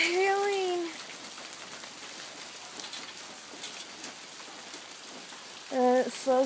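Hail pelting down in a Southern California storm, a dense, steady patter of stones striking surfaces close by, with an excited voice speaking at the start and again at the end.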